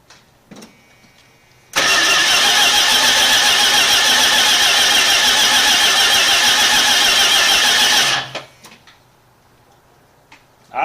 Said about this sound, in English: what we're going to do is get this thing whirling over